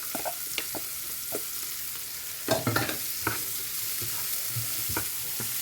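Spring onion and paprika sautéing in a pan for a prawn curry, a low steady sizzle with scattered stirring clicks and scrapes of a utensil against the pan, close by and fairly quiet.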